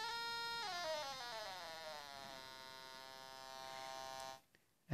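A Korg DSN-12 synthesizer holds a buzzy, harmonically rich tone as its oscillator frequency is raised, the pitch sweeping upward and then sustaining steadily for several seconds before cutting out.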